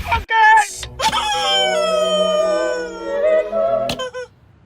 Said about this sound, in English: Do I fire the goose now?